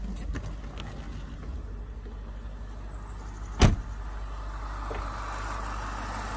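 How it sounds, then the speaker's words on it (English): A BMW 6 Series E63 idles quietly at about 700 RPM as a steady low hum, with a single sharp knock midway and no talking. "let's go and have a listen to the engine"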